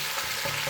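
Chopped onion and garlic fry in a pan, a brief, steady close sizzle with no voices.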